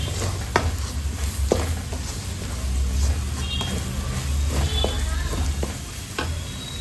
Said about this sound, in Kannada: ಸ್ವಲ್ಪ 1 ನಿಮಿಷ ಈ ಮಸಾಲೆ ಎಲ್ಲ ಎಣ್ಣೆಯಲ್ಲಿ ಫ್ರೈ ಆಗಲಿ